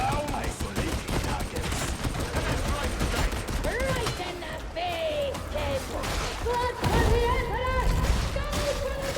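Dense gunfire in Warhammer 40,000: Darktide, continuous rattling shots and impacts down a firing lane, loud and close, mixed with game effects and a voice talking.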